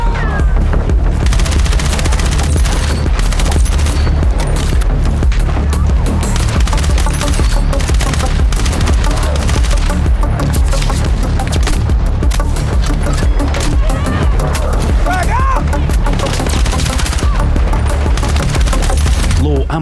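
Dense, loud gunfire from the video game Battlefield 6: rapid automatic bursts and booming blasts overlap continuously throughout, with no pause.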